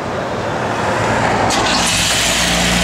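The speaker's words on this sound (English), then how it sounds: "Car fires right up." A 1963 Chevrolet Bel Air with a solid lift camshaft fires up and settles into a loud, steady rumbling idle close by, the engine note filling the whole stretch.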